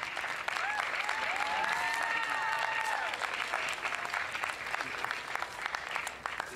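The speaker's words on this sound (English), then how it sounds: "How about you guys give a nice round of applause for your parents?" Sustained applause from a school audience at a high school music department spring concert, steady and moderately loud throughout, with a few cheers and whistles audible in the first half.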